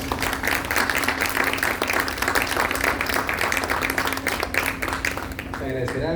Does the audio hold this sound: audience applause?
yes